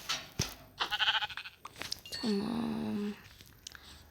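Sheep bleating in a video game: a drawn-out, wavering bleat near the middle, among scattered game noises and clicks.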